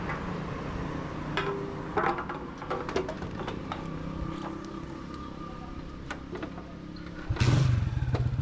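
A motorcycle pulls away from a fuel station on a village road in Pakistan, its engine running steadily with scattered clatter and a louder rev burst near the end.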